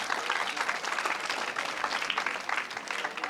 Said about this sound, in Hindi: एक बार जोरदार ताली बजाइए उनके।